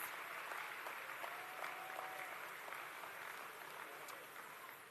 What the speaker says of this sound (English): a big round of applause to all of our medalists and certificate excellence winners for social and personal services